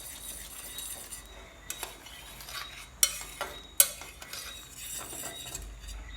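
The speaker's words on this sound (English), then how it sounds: "We're just gonna stir it one more time." A spoon stirring a simmering sauce in a pot, with soft scraping and a few sharp clinks of utensil against metal over a faint bubbling background, close with no talk.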